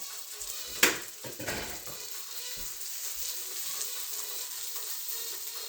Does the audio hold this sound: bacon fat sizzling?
yes